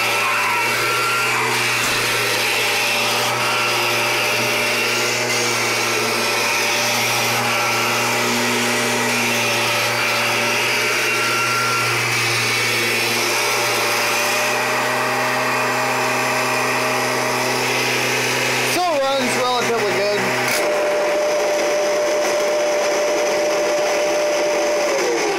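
An 80th Anniversary Edition Kirby G4 upright vacuum cleaner from 1994 runs loud and close with a steady motor whine and hum, shifting pitch and cutting out sharply near the end before a quieter tone continues.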